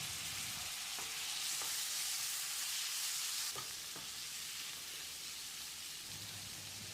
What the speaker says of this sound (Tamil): இதை போட்டு மசிகிற அளவுக்கு வதக்கிடலாம்.